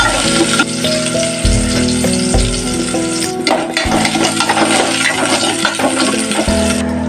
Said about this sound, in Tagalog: Magpainit ng 2 kutsarang mantika. Unahing igisa ang isang sibuyas.